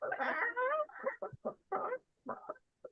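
A voice mimics a chicken, giving a drawn-out squawk followed by a series of short, choppy clucks, fairly quiet and close.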